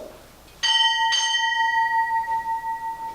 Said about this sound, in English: Sound, 2 bells.